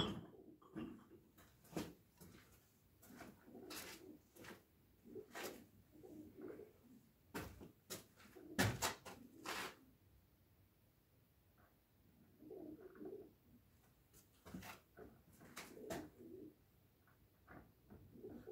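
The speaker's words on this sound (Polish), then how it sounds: "Na dachu są gołębie." Pigeons coo on a roof, soft throaty calls rising and fading in short bursts at a moderate distance, mixed with a few sharp knocks and thumps in an otherwise quiet indoor space.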